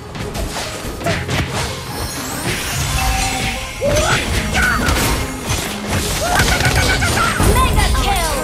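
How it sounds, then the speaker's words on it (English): A turret being destroyed in the Mobile Legends video game, heard as dense game-effect crashes, bursts and booms. A loud clash of effects runs throughout, with in-game announcer voice lines mixed in. "You destroy the turret!"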